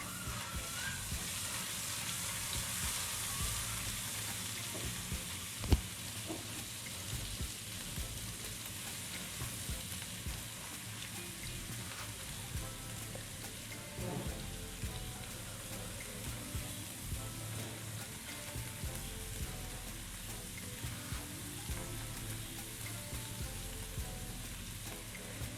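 Garlic and ginger paste fries in hot oil with a quiet, steady sizzle and hiss, and a few faint clicks from stirring.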